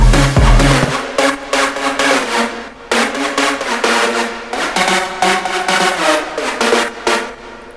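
Stacked big room EDM drop synth layers, including an octave-down copy of the same preset, sound together as one loud, wide, buzzy chord melody. A deep low thump opens it, then rhythmic stabs and sustained notes rise and fall, instrumental only.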